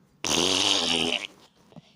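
A loud, buzzy fart sound effect from a video game lasts about a second, then a short faint blip follows.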